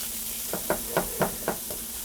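Spinach tossed into a hot skillet with prosciutto and onions gives a soft steady sizzle, with about six quick stirring knocks spaced evenly over the frying hiss, and no one speaking.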